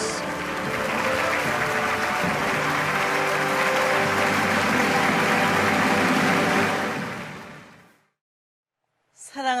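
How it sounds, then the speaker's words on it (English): A large assembly rises and applauds in welcome at a Korean War 70th anniversary commemoration, a dense, even wash of clapping that holds for about seven seconds, then fades to silence before a brief burst returns. "please rise and join me in welcoming Dr. Hakja Moon, the Mother of Peace, with a warm round of applause"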